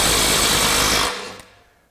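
A Milwaukee M12 Stubby impact wrench hammers hard on a bolt at around 300 foot-pounds of breakaway torque, loud and steady for about a second, then cuts off and leaves a brief fading rattle.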